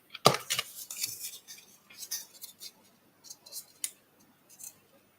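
Scissors cut paper for journal decorating, giving a few sharp, close snips followed by lighter scattered crisp clicks and rustles in a quiet room.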